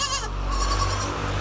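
A pregnant Rajanpuri goat at a goat sale gives one loud, close bleat with a wavering, nasal quality, heard alone and without talk.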